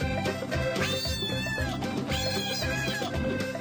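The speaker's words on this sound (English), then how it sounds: "that's when they started meowing" A kitten trapped inside a vent pipe meows loudly and repeatedly, its strained, wavering cries following one another close and clear with no other sound.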